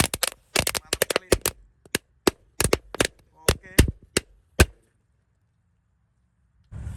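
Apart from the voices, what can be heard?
firecrackers exploding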